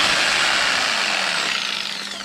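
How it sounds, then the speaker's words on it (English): A power drill whirs at high speed, pre-drilling holes into a boat's dash panel during a restoration, then winds down as the motor slows near the end. "So I've just pre-drilled a couple of holes just so you can put the blade in"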